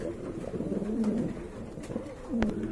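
Pigeons coo softly in a bird market setting, a few low drawn-out calls repeating under faint background noise.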